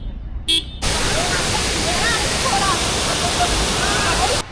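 Karimutti waterfall in Munnar roars as a continuous, loud broadband rush of falling water heard from close by, with a brief muffled moment before it opens up fully.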